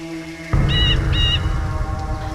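A giant cartoon bird lets out two sharp, close squawks, each a short harsh burst, over a loud, busy animated soundtrack that swells in just before them.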